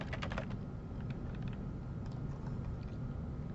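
Keys clatter on a computer keyboard in a quick burst of close taps, then trail off into a steady low hum, quiet and alone.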